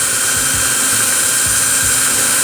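A power drill whirs steadily as it stirs a homemade organic pesticide mixture, a loud continuous motor drone with a faint rhythmic churning underneath and no talk.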